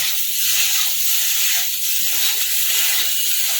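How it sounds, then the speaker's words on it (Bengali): Cauliflower fries in a little oil over gas heat, giving a continuous soft, airy hiss close by with no voices. "আর যেহেতু অল্প তেলে ভাজছি তো আমি একদম হিটটাকে রোদে রেখেছি গ্যাসের হিটটাকে"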